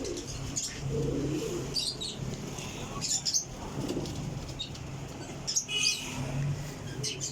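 Kasuri golden pigeons coo in low, rolling calls, mixed with scattered squawks, chirps and bursts of wing flapping. The sounds come from nearby, amid a noisy, busy background.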